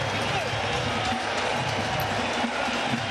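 A packed baseball stadium crowd at a Mets game cheers in a continuous, roaring wall of noise with scattered shouts rising and falling.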